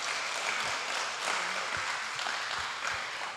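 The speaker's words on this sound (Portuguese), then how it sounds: "Aplauda o Senhor." A church congregation applauds during a women's worship service, a dense, steady wash of many hands clapping together for several seconds with no voices standing out.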